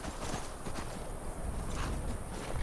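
A horse pulling a wagon in Skyrim, soft repeated hoof clops mixed with a steady rolling rumble, continuous and moderately close.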